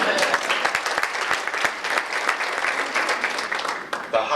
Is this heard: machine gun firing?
no